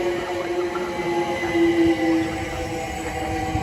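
A Southeastern Class 376 electric train passing New Cross on the South Eastern Main Line, producing a continuous rumbling roll with a steady motor whine, moderately loud and near, with no talk.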